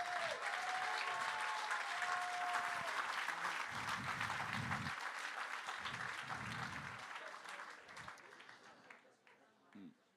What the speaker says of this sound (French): Je pense qu'on peut encore applaudir Marine.